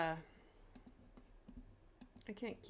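Scattered sharp clicks of a computer mouse, a handful of isolated taps spread across the moment with faint background sound and a brief bit of voice at the end.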